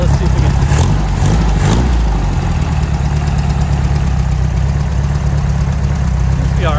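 A 1969 Barris Mini T engine, left sitting with old gas in it, idling close by with a steady, loud rumbling putter after a couple of brief revs at the start.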